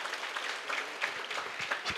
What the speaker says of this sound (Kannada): NSS ಮಕ್ಕಳಿಗೆ ಸೇವೆ ಮಾಡೋರಿಗೆ NCCನ ಜೋರಾಗಿ ಚಪ್ಪಾಳೆ ಹೊಡಿಬೇಕಂತ ಕೇಳ್ಕೊತೀನಿ